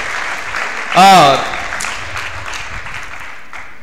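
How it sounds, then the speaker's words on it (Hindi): A crowd claps continuously in a steady patter, with a short spoken word rising above the applause early on. "जोरदार तालियों से इनका अभिनंदन करें"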